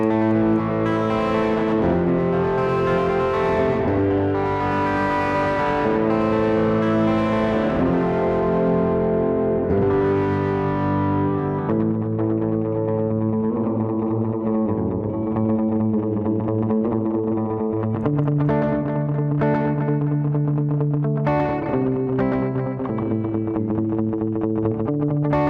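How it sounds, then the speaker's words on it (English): An electric guitar played through distortion, panned into a single stereo channel and routed alongside a Boss DD-7 digital delay pedal. It sounds as loud, sustained, buzzing chords and held notes that carry on continuously. "I'm going to put the distortion on, but it's only going to go through one ear."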